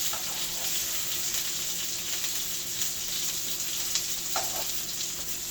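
Eggs frying into an omelet-like layer in a pan, a continuous soft sizzle and crackle with a few brief louder pops, no voices.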